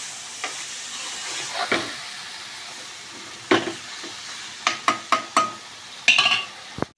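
Onion paste and green chillies fry in oil with a steady low sizzle, joined by several sharp clinks and scrapes of a utensil against the pan near the end.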